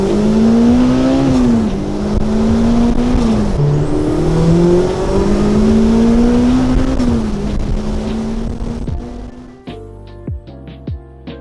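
A Honda S2000 engine roars loudly and close, revving with rising and falling pitch sweeps before cutting off abruptly, followed by a few sharp clicks and knocks.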